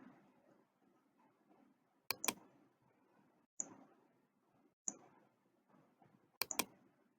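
A computer mouse clicking during drafting work, with a few crisp double clicks and single clicks spaced across a quiet room, close and distinct over faint background hiss.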